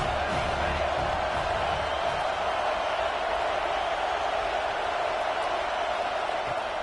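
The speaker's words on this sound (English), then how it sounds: "This crowd trying to make life miserable for this offense" A stadium crowd in the College Football 26 video game keeps up a steady, loud roar for the whole stretch, with no break or swell, as a backdrop to a football broadcast.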